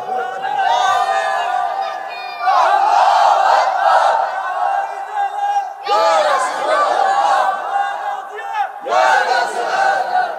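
A large crowd at a religious gathering loudly shouts takbir, Allahu Akbar, in three big bursts of massed voices, close and powerful, with a chanting leader's voice between them.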